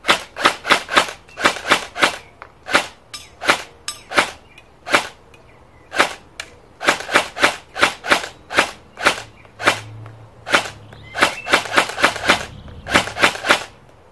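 An airsoft gun fires in quick bursts of sharp, snappy cracks, loud and close, with short pauses between the shot strings.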